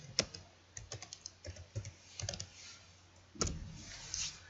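Typing on a computer keyboard at a Windows command prompt: a quiet, close run of crisp key clicks in uneven bursts, with a couple of sharper presses, and no speech.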